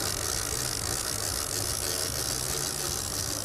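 A fishing reel is wound in aboard a marlin fishing boat, a continuous ratcheting, whirring mechanical sound under steady engine and water noise, with no voices.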